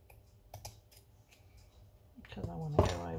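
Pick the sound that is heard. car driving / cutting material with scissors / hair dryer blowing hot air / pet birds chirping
cutting material with scissors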